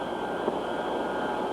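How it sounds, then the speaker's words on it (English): A Boeing 707 prototype Dash 80 jet airliner from 1955 approaches to land from the north, a steady broadband engine roar with a sustained whine, heard continuously without talk. "The airplane approached from the north and touched down."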